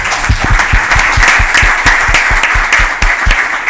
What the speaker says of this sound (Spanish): darle un fuerte aplauso de nuevo porque ha hecho gran mérito